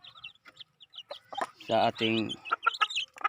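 Rooster and hens on a provincial backyard farm clucking in short bursts, with one louder, drawn-out call in the middle, close by, while someone talks intermittently over them.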